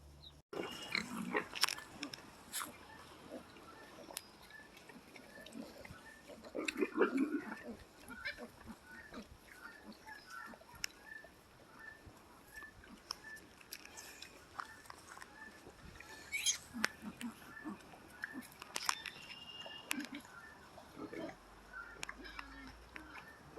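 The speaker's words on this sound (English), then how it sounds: "we have Corona, Alfred, Bethany, and Maverick for our pigs" Pigs grunting and snuffling intermittently over a long stretch, with people talking nearby and occasional chewing and rustling noises.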